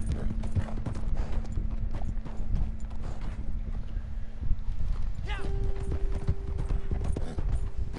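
Hooves beat a steady gallop in Red Dead Redemption 2 as a rider crosses snowy ground, the close thudding rhythm running the whole time beneath a speaking voice.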